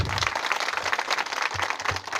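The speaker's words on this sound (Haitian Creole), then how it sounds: "Bat un grand applaudissement pour Osman" Steady applause from a gathered group of people, dense clapping held throughout at moderate loudness, with a few low thumps mixed in.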